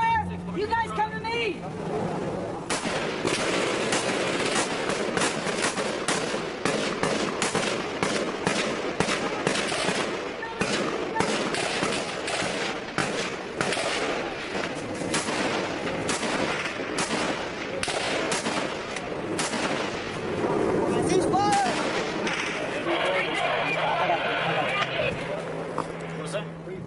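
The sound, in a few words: gunfire in a war film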